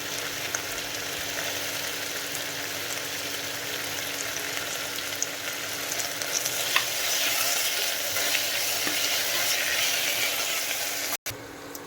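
Tomatoes frying in a pan with ginger garlic paste for biryani give a steady, close sizzle, with occasional scraping stirs and a brief cut near the end.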